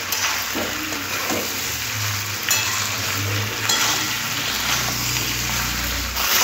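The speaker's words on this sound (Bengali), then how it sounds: "চিকেনগুলো খুব ভালো করে মেশাতে হবে" Chicken pieces are stirred with spices in a hot pan, giving a steady broadband sizzle with scraping stir strokes and a low hum beneath, continuous and close throughout.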